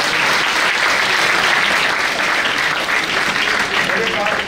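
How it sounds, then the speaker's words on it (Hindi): Steady, dense applause from a large audience at a guest talk, sustained and evenly loud throughout with no gaps. "ताली बजाओ यार।"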